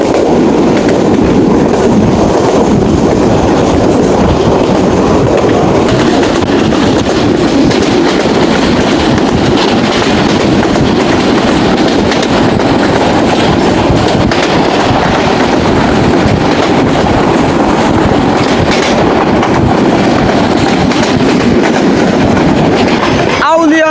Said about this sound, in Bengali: এই লাইনে ট্রেনগুলো মানে খুবই স্লো যায়, তার কারণ হচ্ছে রেল ট্র্যাকগুলো খুবই বাজে অবস্থা